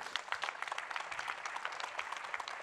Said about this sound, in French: cette superbe initiative qu'on peut applaudir, je pense